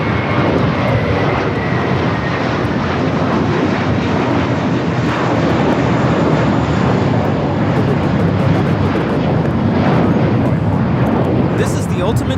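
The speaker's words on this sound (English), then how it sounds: "This is the ultimate experience taking off the JFK JetBlue 624. It's an A321." A JetBlue Airbus A321 takes off, its jet engines producing a loud, steady, close roar that fills the whole stretch, with faint crackle near the end.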